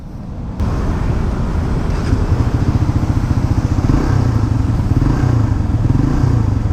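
A Suzuki GSX 150 Bandit engine runs during a test ride, a loud close steady rumble with a fine pulsing throb and some wind noise, starting abruptly after a brief quiet moment.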